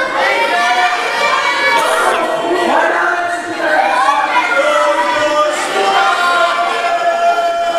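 A loud, dense wrestling crowd roars and shouts continuously, a rough wall of voices and whistles that swamps the announcer's attempt to speak.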